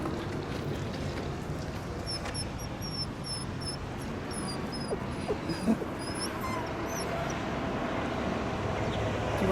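A new puppy whimpers faintly in high, thin, wavering cries that repeat through a steady background rumble, with a small bump of movement near the middle.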